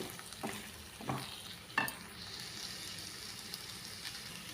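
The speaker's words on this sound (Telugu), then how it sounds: "బెండకాయ ఫ్రై అయితే అయిపోయిందండి" Okra fries in a pan with garlic and chili powder, giving a soft, steady sizzle broken by a few scraping stirs near the start.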